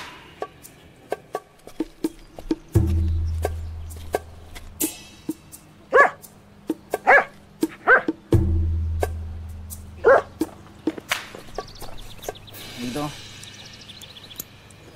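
A dog barks in a series of sharp, fairly close yaps and whimpers, scattered irregularly across the scene with some talk mixed in.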